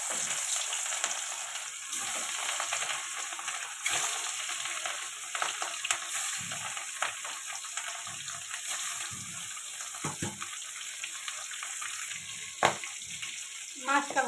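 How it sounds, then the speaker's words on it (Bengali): Fish frying in hot oil for a Bengali fish curry with ridge gourd, potato and lentil dumplings, giving a steady broadband sizzle with crackling pops and occasional stirring clatter throughout. "তেলটা গরম হয়ে গেছে, এবার মাছ দিয়ে দেবো।"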